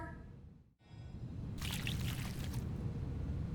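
Glacial spring water poured onto a flower in Genshin Impact: a steady trickling, splashing pour with airy sparkle rises after a short lull and carries on to the end, close and fairly loud, with no talk.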